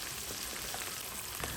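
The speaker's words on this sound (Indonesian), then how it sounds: "Goreng ikan keting sampai mateng, sampai sedikit kecoklatan aja" Keting, a freshwater catfish, fries in hot oil, giving a constant dense sizzle and crackle, close and steady, with no talk over it.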